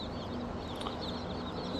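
Red shoulder Yokohama chickens cluck softly and continuously in a busy coop, their calls blending into a steady background of farmyard noise with no voices.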